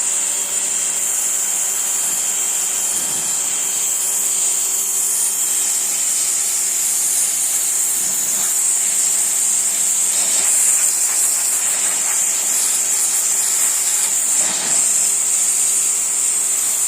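A WORCRAFT HC17-090 pressure washer sprays paint off wood, making a loud, continuous high hiss with a faint motor whine underneath and slight surges as the jet moves.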